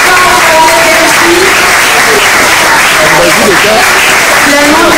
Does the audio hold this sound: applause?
yes